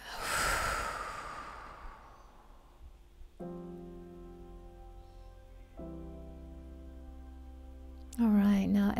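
A long, slow exhale through the mouth during a meditation, a soft breathy rush fading over about three seconds, followed by a calm sustained tone and a brief voice at the end.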